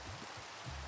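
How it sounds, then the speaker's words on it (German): Steady soft hiss of rain falling in the video game Minecraft, faint and continuous with no voices. "Okay, es regnet."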